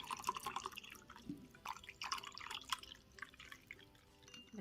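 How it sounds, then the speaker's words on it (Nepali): Water poured into a glass holding two spoonfuls of homemade pineapple Tang powder, a light, steady trickling with scattered drips and splashes running the whole time, fairly close and quiet. "यसमा अब पानी हाल्दै छु।"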